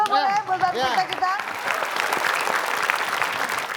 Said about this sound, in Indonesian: Kita kasih tepuk tangan dulu boleh buat peserta kita.